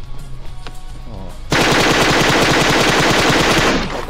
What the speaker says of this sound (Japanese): あれ QBU なんすか。 めっちゃ撃ってる。